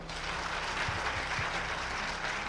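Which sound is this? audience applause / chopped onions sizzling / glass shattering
audience applause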